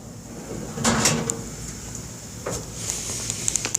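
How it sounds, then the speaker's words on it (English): A few soft sliding thuds as self-closing tool chest drawers glide shut, with faint clicks and rattles, fairly close in an otherwise quiet space. "They close on their own, so you don't got to slam them shut."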